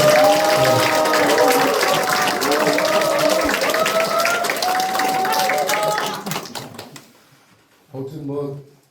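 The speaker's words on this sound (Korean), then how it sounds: "박수 한번" An audience at a Korean committee launch event claps loudly and steadily under voices and a tonal announcement, then the applause tapers off and a voice briefly resumes speaking.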